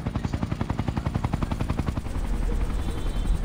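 Helicopter at a hot landing zone in Ghost Recon Future Soldier, rotor blades thumping in a fast, even pulse that loudens and blurs into a heavy roar toward the end, no talk over it.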